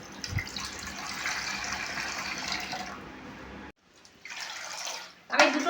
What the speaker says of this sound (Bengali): একই রকমভাবে দুটো ডেকচি বারবার এইভাবে ঢালতে ঢালতে